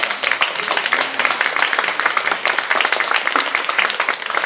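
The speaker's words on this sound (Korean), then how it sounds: "우리 한번 환영의 박수 쳐드리도록 하겠습니다." A church congregation at a Sunday service claps to welcome a newly registered member. The applause is steady and dense, carried by many hands, and continues for several seconds without a break.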